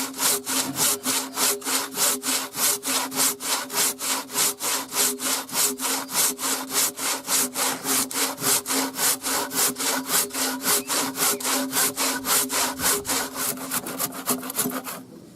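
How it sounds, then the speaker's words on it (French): Timber being cut by hand with a Japanese saw during traditional timber-frame carpentry work, a steady rhythmic rasp of regular back-and-forth strokes, close and continuous, with no talking. "la scie japonaise, elle peut partir sur vous"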